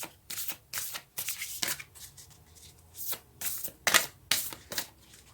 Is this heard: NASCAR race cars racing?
no